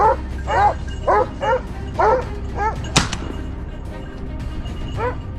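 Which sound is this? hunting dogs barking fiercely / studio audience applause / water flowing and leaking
hunting dogs barking fiercely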